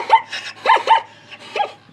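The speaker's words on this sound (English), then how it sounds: "zebras sure do make noises, and they bark, and they make like donkey sounds" A recorded zebra gives a run of four or five sharp, yelping bark-like calls in quick succession, clear and fairly close against a quiet background.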